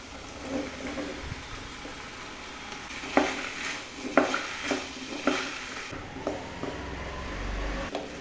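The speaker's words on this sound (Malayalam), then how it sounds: "ഇനി ഇതിലേക്ക് ആ കഷ്ണങ്ങൾ ഇട്ട് ഒന്ന് ഇളക്കുക" Okra pieces are stirred into softened tomato in a sizzling pan, with a steady fry hiss under several sharp scrapes and clicks of a spoon against the pan, close by.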